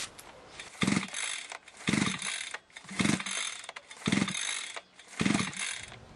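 A motorcycle engine is kicked over five times in a row, each attempt a short mechanical churn with ratcheting clatter that fails to catch, separated by brief pauses.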